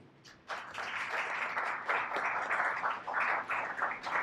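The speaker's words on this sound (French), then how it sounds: "Je vous demande donc de l'applaudir." A crowd applauds at the Prix Amaranthe 2021 award ceremony in the Salle Soukar, starting suddenly after a short quiet moment and then holding a steady, dense wash of clapping with no voices.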